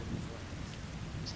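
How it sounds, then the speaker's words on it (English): Steady rain falls in Skyrim, with the character holding a shield overhead as an umbrella, making a soft continuous hiss over a low rumbling wash, with no voices. "Because it's raining out."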